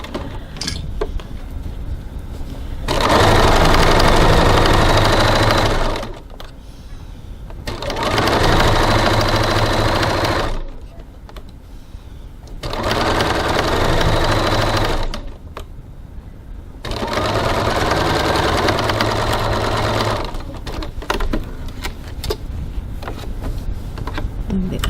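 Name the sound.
sewing machine stitching seam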